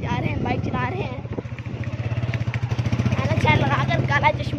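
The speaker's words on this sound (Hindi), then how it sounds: "फिर रखें जी जा रहे हैं, बाइक चला रहे हैं" Motorcycle engine droning steadily as the bike is ridden along a street, a continuous mid-pitched hum that swells slightly toward the end, with someone talking over it throughout.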